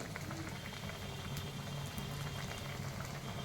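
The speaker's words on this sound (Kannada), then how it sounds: "ಮತ್ತು ಇದನ್ನು ಈ ಥರ ಎಣ್ಣೆಯಲ್ಲಿ ಬಿಟ್ಕೋಬೇಕು" Kolhapuri Sangam vada, batter-coated, fry in hot oil with a constant dense sizzle and bubbling that stays steady throughout, with no talk.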